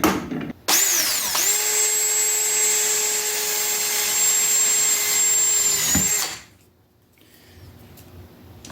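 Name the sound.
power drill drilling a hole in a plastic tube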